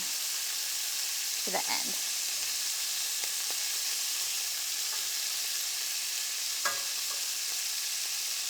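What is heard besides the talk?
meat browning in a hot pan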